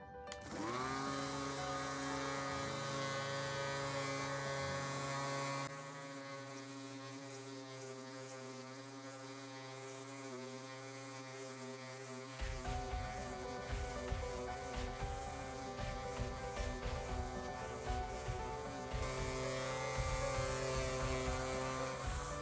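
A Ryobi R18 ROS cordless orbital sander on a 5 Ah battery sands spruce wood, giving a steady close motor whine with layered harmonics, shifting pitch partway through and turning rougher and grittier toward the end.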